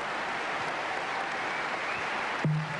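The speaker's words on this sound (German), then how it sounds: "So einen Applaus hat er nicht einmal in Flushing Meadow." A tennis crowd applauds tennis player Jim Courier at the 1992 ATP World Championship in Frankfurt, a steady, dense wash of clapping from a large audience that holds evenly throughout, with a brief tone near the end.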